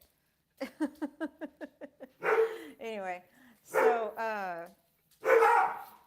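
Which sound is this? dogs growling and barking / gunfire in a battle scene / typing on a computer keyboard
dogs growling and barking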